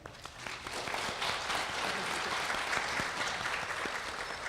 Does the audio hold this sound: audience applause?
yes